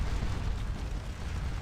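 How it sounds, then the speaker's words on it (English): Cannon fire in Scourge of War Waterloo at Ligny: a continuous low rumble of artillery booms rolling together, fairly loud and dense with no distinct gaps, no voices over it. "And there we go with the cannons."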